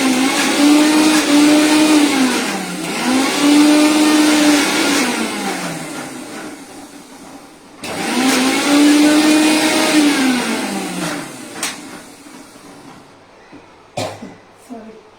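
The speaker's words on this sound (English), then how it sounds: "I have changed the mixer jar because it's not in that it will not be a fine paste, so I am grinding in this small jar" A mixer grinder whirs loudly as it grinds a paste in a small jar, running in two long bursts with a short pause between, then fading into quieter handling clatter and a cough.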